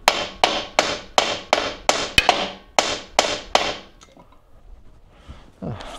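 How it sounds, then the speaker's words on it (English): About a dozen sharp metallic hammer smacks struck on a part to knock it loose, in a quick uneven rhythm, loud and close, then a quieter pause with faint handling noise. "I don't feel like smacking on things more than that."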